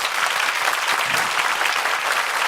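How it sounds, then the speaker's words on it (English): Loud, dense applause from a live audience at a hypnosis stage show, many hands clapping steadily and close for the full stretch, with no speech over it. "Give them a round of applause."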